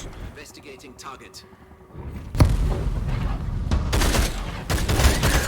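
Gunfire erupts during a firefight in the battle royale game Bloodhunt, a burst of booming shots and rapid crackling bursts that builds from quieter rumbling into dense, loud volleys.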